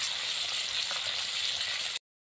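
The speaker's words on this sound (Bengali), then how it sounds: "তো আমার মাছের মাথাগুলো প্রায় ভাজা হয়ে গেছে।" Fish heads fry in oil in a pan, making a continuous close sizzle at moderate level for about two seconds before cutting abruptly to silence.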